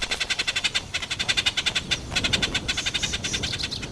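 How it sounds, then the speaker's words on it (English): A greater honeyguide gives a rapid series of chirping notes, a quick regular chatter of bright repeated calls that runs near and loud for a few seconds without any talking. "The bird leads the honey badger to bees' nests by calling for it to follow."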